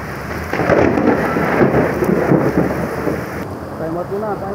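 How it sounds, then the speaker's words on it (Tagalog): Thunder rumbles low and broad through a steady heavy downpour on a stormy rainy day, the roar rising after a quiet opening and fading slightly toward the end, with no one speaking. "Kukulog-kulog pa."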